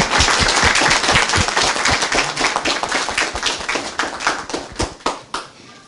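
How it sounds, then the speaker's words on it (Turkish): Village schoolchildren in Turkey clap together loudly and close by, a dense burst of hands that thins into scattered claps toward the end. "Kocaman bir alkış size."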